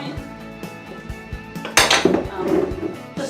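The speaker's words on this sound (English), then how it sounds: "Just scrape the bowl out." A spoon scraping out a mixing bowl of lemon yoghurt cake batter, with repeated clinks and taps of metal on the bowl and then a longer rasping scrape, close and alone.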